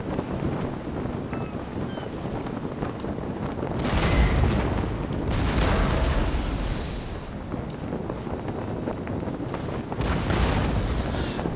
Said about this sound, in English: I seem to be firing before I've got all my guns reloaded for some reason